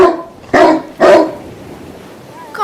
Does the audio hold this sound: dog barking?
yes